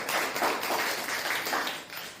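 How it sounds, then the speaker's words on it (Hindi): An audience at a party workers' meeting claps to welcome guests, a dense, steady wash of applause that lasts the whole moment without a break. "एक बार तालियों से उनका सबका स्वागत।"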